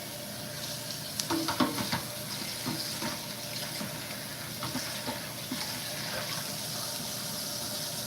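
Tap water runs into a sink while a pan used for cooking a veggie omelette is cleaned, a steady hiss of flowing water with a few soft knocks and clatters near the start.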